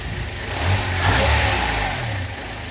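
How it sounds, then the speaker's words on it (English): A Mercedes 190E W201 fuel-injected engine revs up close and loud, climbing in a single smooth swell before settling back toward idle. "I can rev the engine."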